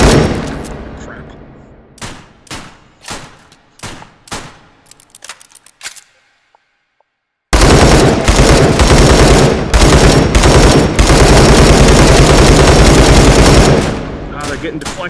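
Gunfire with armor-piercing rounds in the H3VR virtual reality shooting game: loud separate shots and short bursts, a pause, then dense, sustained automatic fire up close.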